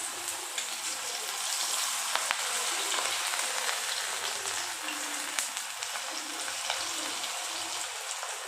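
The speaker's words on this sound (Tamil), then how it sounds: "அதே எண்ணெயில் கொஞ்சம் கொஞ்சமாக போட்டு எடுத்துக்கலாம்." Small pieces of batter sizzle steadily in hot oil, a constant, fairly quiet crackle and hiss with occasional sharper pops and no talking.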